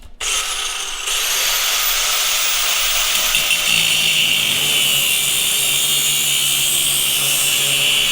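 Power tool cutting down a steering bushing on a Jeep, a loud close high-pitched grinding whine that starts abruptly and holds steady throughout.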